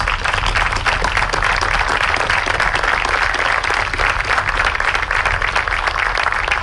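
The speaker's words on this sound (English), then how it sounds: "Round of applause." A large audience at a military unveiling ceremony for an HH-60L MEDEVAC aircraft bursts into sustained, dense applause, loud and steady throughout with no pause.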